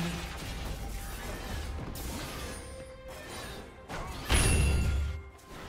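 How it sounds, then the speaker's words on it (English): Turret destroyed in a League of Legends match: game sound effects with whooshes and mechanical clatter, then a loud crashing burst near the end that fades out. "Red team's turret has been destroyed."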